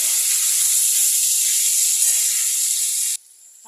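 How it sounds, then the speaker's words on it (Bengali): Potatoes fry in oil with a bright, steady sizzling hiss that cuts off abruptly near the end, leaving near silence. "এক সাইডে মাছ ভাজা হোক, আর এক সাইডে আমি আলুগুলো দিয়ে দিচ্ছি, ভেজে নেবো।"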